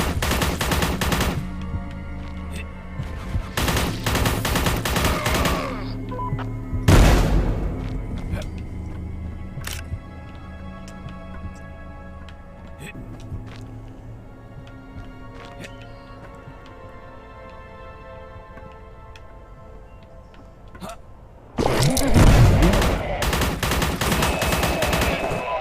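Machine gun fire from the video game Forgive Me Father comes in loud, dense rapid bursts, with a long stretch of quieter game ambience in between before a final sustained burst.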